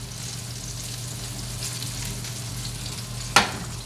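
Garlic oil sizzling in a hot pan with vegetables, a steady close crackle and hiss throughout, broken by one sharp clink near the end.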